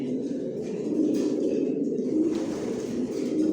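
Pigeons in a racing loft coo continuously, a dense, close, rolling murmur of overlapping throaty calls.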